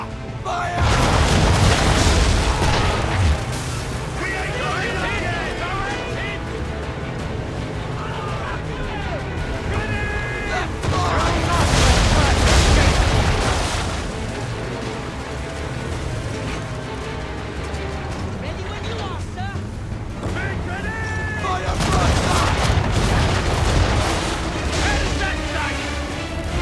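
Ship cannons firing in an Assassin's Creed 3 naval battle on Xbox 360, with three heavy booming volleys several seconds apart, each followed by a rumbling decay, while voices shout orders between blasts.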